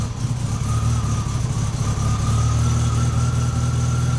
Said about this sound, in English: So with the engine, the revs picked up